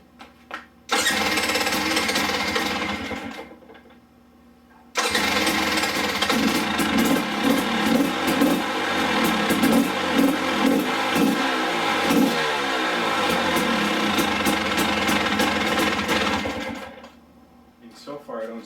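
KTM 300 XC two-stroke dirt bike with a high compression head fired up and idling, a brief start then a long, close, steady buzzing run with small revs before it cuts off.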